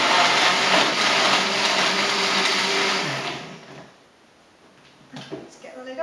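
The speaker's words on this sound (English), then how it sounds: "I'm just using my KitchenAid blender, which is great because it blends everything up really quickly." A KitchenAid blender whirs loudly and steadily for about three seconds while blending a citrus smoothie, then winds down and stops, followed by a few light clatters as it is handled.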